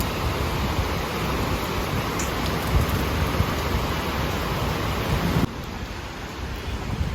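Heavy rain pours down steadily in a broad, even hiss that roars for several seconds, then drops suddenly to a softer level.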